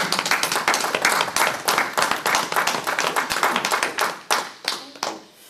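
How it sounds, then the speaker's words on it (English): Attendees at a school district board of trustees meeting clap together in a fast, steady rhythm of distinct hand claps, close and moderately loud, thinning out and tapering off toward the end. "I just have to applaud all of you."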